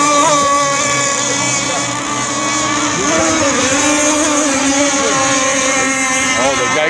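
Geico racing boat engine roaring at a drag boat race, a loud sustained drone with shifting pitch as it revs, with voices talking over it.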